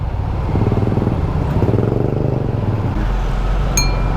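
Motorcycles buzz and rev past in busy street traffic in Baclaran, Manila, a loud close engine drone with some clatter, ending in a low rumble and a brief high metallic ring.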